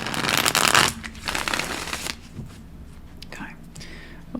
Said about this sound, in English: Let's give that another shuffle, shall we?